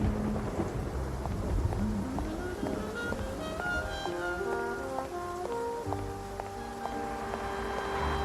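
Rain and thunder in the detective game Face Noir: a steady, dense downpour with rolling thunder rumbles runs throughout under a melodic music score.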